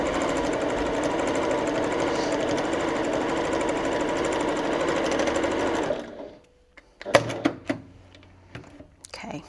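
A bernette 08 straight-stitch sewing machine runs a long continuous burst of rapid stitching through thick fabric, then stops; a few sharp clicks and handling knocks follow in the quieter tail.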